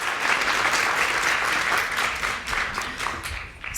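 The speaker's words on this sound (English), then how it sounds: "Let's give her a round of applause." Loud, dense applause from an audience at a youth summit competition, a continuous wash of clapping with no speech over it.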